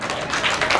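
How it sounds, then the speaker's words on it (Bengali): An audience applauds at the opening of a fair, a brief burst of crowd clapping that builds slightly over a moment, with some voices mixed in. "একটা জোরদার করতালি হোক।"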